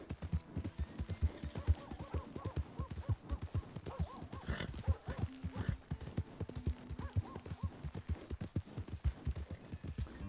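Horse hooves in the Red Dead Redemption video game, a fast rhythmic clip-clop of galloping hoofbeats held steady and fairly close, with occasional faint snorts and game sounds mixed in.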